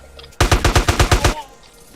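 Rapid automatic gunfire from a GTA Arizona RP game session, a single burst of about ten loud, evenly spaced shots lasting roughly a second, with no talking over it.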